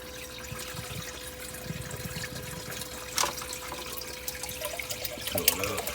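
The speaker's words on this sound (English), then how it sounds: "Fill it up with tank water." Aquarium tank water pours and trickles into a bottle during refugium pod dosing for a Red Sea Reefer 250 reef tank, a steady quiet splashing with faint drips and a brief louder gurgle near the end.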